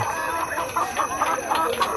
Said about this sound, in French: Des poules picorent le sol.